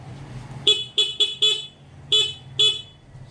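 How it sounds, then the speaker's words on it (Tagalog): Car horn wired in with a passing-light switch, tested while the switch is on: six short, loud honks in an irregular rhythm, close by, over a low idling hum. "So, testing natin yung busina habang naka-on yung switch."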